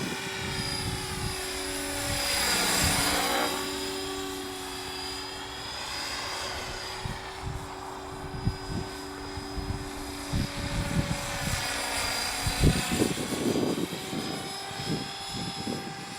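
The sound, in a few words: Align Trex 500e model helicopter flying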